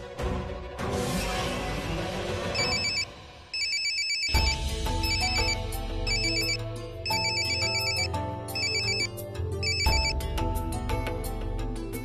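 A telephone ringtone rings repeatedly and loudly, the melodic pattern repeating in bursts with a brief pause, unanswered and with no voices over it.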